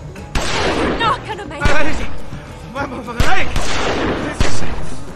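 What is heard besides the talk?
gunfire in The Walking Dead Season 2 video game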